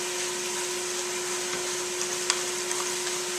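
Spaghetti being tossed and mixed through in a pan, a steady hiss with a faint low hum beneath and a few soft, sparse clicks from the utensil near the end.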